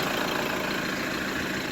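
Engine of a 2013 Ford Transit Mk7 van running, a steady broadband rumble at idle, loud and close, with no variation over the short stretch.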